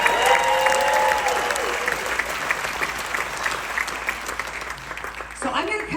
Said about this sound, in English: a big round of applause for David Schmidt